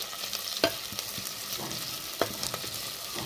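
Fresh ginger and shallot paste sizzles steadily in a hot pan, with a few sharp scraping stirs of a spoon standing out above the continuous close frying noise.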